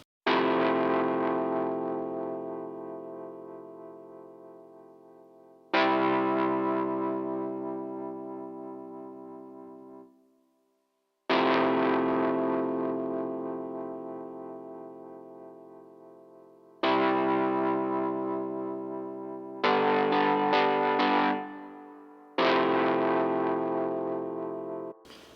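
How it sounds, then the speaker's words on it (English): A heavily overdriven electric piano run through an amp, playing sustained distorted chords that ring and slowly fade, five or six long held voicings with brief gaps, thick and buzzy, loud and close, no voices. "This is an electric piano. And it's really overdriven,"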